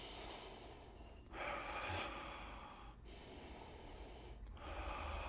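Continuous nasal breathing during a Russian breathing drill with cervical rotations, heard as close, forceful inhales and exhales flowing into each other in a steady rhythm with no pause between them.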